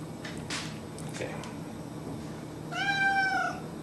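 A cat gives a clear, drawn-out meow near the end, close by, after some faint clatter, in a room with a fireplace where a string-turned roast chicken is being served.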